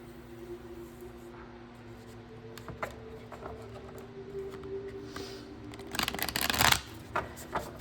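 Tarot cards are handled and shuffled at a quiet table, with soft scattered riffles and slides building to a louder burst of shuffling near the end, alone without speech.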